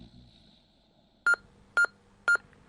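A telephone is dialed: three short, evenly spaced touch-tone beeps ring out clearly over near silence, with faint low background noise at the start.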